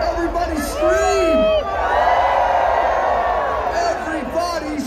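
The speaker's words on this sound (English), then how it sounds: "Keep your hands up in the air, everybody scream." A festival crowd at Electric Zoo screams, whoops and cheers loudly and continuously, a dense roar of many voices with rising shouts, near and sustained throughout.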